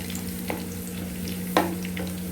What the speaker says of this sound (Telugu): చూడండి, వెల్లుల్లిపాయ ఫ్రై అయింది. జీలకర్ర కూడా ఫ్రై అవుతుందండి.